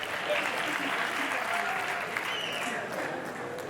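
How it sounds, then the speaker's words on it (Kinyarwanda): Steady applause from an audience at a live comedy show, a dense continuous clatter of many hands lasting the whole stretch at an even level, with no speech over it. "Bikomera amashyi."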